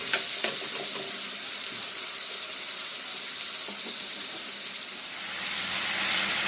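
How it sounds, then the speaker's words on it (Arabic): Garlic sizzles loudly in hot oil in a pan while liver is being cooked, a close, steady, bright frying hiss that carries on throughout with a few crackles and no talking. "اسمع صوت التشة"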